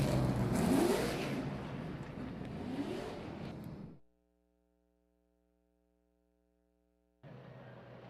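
Late model race cars at Midvale Speedway roar loudly together for about four seconds, then cut off abruptly to near silence with a faint hum, before the broad engine noise returns near the end.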